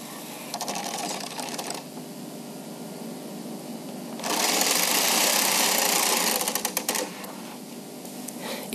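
A Bond Classic knitting machine carriage slides back and forth across the needle bed, knitting several rows: a mechanical clatter and whirr with rhythmic passes, one longer and louder sweep in the middle, close by with no talk.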